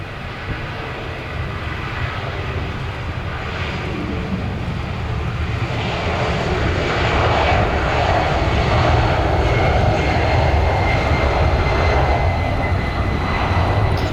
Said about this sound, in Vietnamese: mời mọi người chiêm ngưỡng pha cất cánh của chiếc máy bay chở hàng rất đẹp này nha